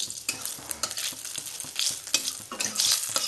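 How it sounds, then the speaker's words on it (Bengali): Panch phoron spices and bay leaf crackle and pop in hot oil, with sharp sizzling bursts and irregular spits close up, and no talking. "পাঁচফোড়নটা ফুটে গেলে তবে আমি তরকারিটা ওতে দিয়ে দেবো"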